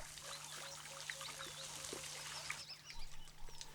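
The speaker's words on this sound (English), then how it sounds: "It seems the elephant knows that when the tap is turned, the tank overflows." Water spills and trickles from an overflowing tank at a desert water hole in the Kalahari, a steady pouring wash with faint bird calls over it and no talk.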